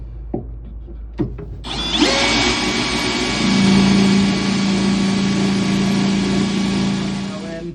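A few clicks, then a power drill whines up and runs steadily, drilling a 20mm hole through metal loudly and close by for several seconds.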